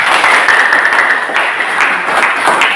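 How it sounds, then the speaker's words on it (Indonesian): Applause from students in a classroom fills the clip, a dense steady patter of many hands clapping at close range with no voices on top. "tepuk tangan."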